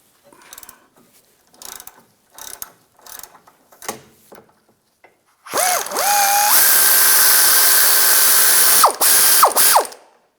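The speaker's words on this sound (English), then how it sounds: "Using a 17mm socket. Loosen up the nut." A ratchet with a 17mm socket loosens a front sway bar link nut on a 2011-2014 Hyundai Sonata, giving several short, close bursts of rapid clicking followed by a louder, sustained mechanical whine.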